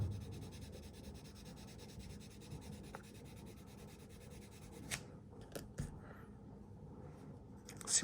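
B pencil shading on paper, a soft continuous scratchy rubbing that fades into a few brief separate strokes, close and quiet.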